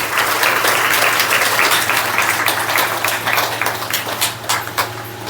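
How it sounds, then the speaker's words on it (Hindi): Enthusiastic applause from an audience at a Brahma Kumaris Guru Purnima celebration in Agra, dense steady clapping throughout that thins slightly toward the end, with a low hum underneath. "जोरदार तालियां"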